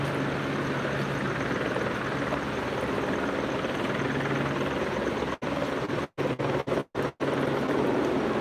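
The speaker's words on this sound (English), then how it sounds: "the helicopter is circling this way" Helicopter circling overhead at night above a downtown Los Angeles street protest, its steady rotor drone loud and continuous, dropping out briefly in several short gaps near the end.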